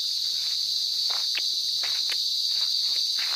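Insects humming and chirring steadily on a farm lot in Magdalena, Laguna, with fruit trees like jackfruit and banana around; a continuous high buzz with a few faint soft rustles or steps, no talk.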